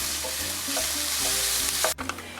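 Onion frying in oil in a pan, being stirred while it cooks for a salmon fillet dish, a steady close sizzle with soft scraping strokes, then a brief break and a quick clatter near the end.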